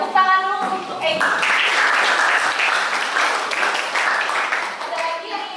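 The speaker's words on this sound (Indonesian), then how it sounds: "Oke, tepuk tangan dulu untuk Egi." A classroom of students claps together in steady applause for a few seconds, with a brief voice at the start and end.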